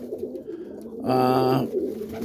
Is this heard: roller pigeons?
yes